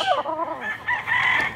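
A giro gamecock rooster crows once up close on a Mexican breeding farm, a loud rising and falling call lasting over a second, with no voices.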